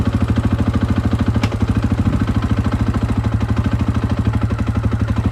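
A KTM 500 motorcycle engine runs at a steady loud idle while the clutch is let out, its even rapid firing pulses continuing throughout with no change in pace.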